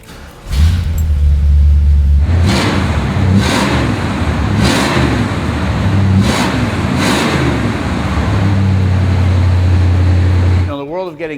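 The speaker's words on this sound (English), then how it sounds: "how about I fire it up for you so you can hear that big Thunderjet motor." A 1971 Ford Thunderbird's big Thunderjet V8 cranks and fires, then settles into a deep, loud idle broken by several sharp revs before dropping back and shutting off, heard close with no talking.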